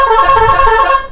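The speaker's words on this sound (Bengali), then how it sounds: "গাড়িটা ছাড়বে না, তাও হর্ন দিয়ে যাচ্ছে" A vehicle horn blares loud and close in one sustained honk lasting about a second before cutting off.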